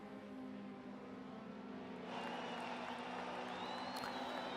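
Touring race cars crossing the line at the start of a race at Texas Motor Speedway, a pack of engines droning steadily before swelling louder and brighter as they accelerate past, with faint crowd noise underneath.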